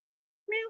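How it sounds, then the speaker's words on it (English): A single short cat meow, clear and fairly close, rising out of silence and lasting under a second with no talk around it. "Little kitty."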